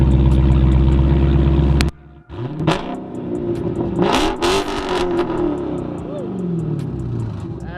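A 2016 Hemi car with a mid-muffler delete and no resonators revs hard, first a loud steady drone that cuts off, then repeated sharp blips that rise and fall under several voices talking.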